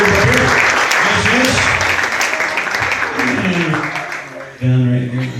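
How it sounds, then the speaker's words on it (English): A hypnotist show audience applauds in a dense, loud wash of clapping that fades briefly before a fresh burst rises near the end, with voices mixed in beneath it. "how about a big round of applause for all of our friends"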